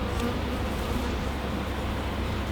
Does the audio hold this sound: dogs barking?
no